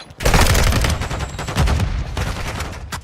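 Pistol and other gunfire crack out in a video game match, with a dense rapid fusillade of loud shots and short pauses between bursts.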